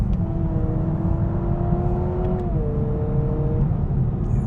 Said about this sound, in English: we'll drop the throttle and keep going here to 4th,